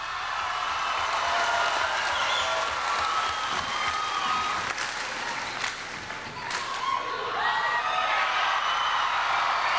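Partisan crowd at a 2002 girls volleyball state final between Kahuku and St. Joseph, a continuous wash of applause and cheering with scattered claps and thumps, loud and steady throughout.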